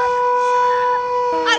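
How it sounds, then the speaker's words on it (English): Loud, close wail of a shark warning siren at Muizenberg Beach in Cape Town, South Africa, a steady two-tone blare that shifts pitch near the end. "even with all the doomsday sirens and flags to show that there is a shark"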